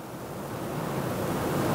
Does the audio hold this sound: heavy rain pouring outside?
yes